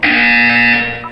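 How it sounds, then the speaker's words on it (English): A loud, steady electronic buzzer from a video game drones continuously for about a second, then fades slightly at the end, with no voices. "When you hear the buzzer, look down at the floor."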